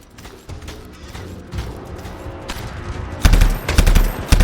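Enemy turrets fire machine guns in the video game Anthem, a continuous rattling burst that grows louder and heavier toward the end, with thudding low impacts and no voices.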